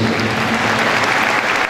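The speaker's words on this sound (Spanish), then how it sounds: "El aplauso, señoras y señores." Loud, close applause from an athlete-of-the-year awards audience greeting an athlete's family member, continuous dense clapping over a low hum.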